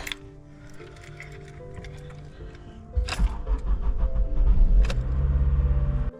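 A Honda CR-V four-wheel-drive engine cranks and struggles to start on a cold morning, with whirring and ticking before a louder rumble catches and settles into a rough idle, close and fairly loud.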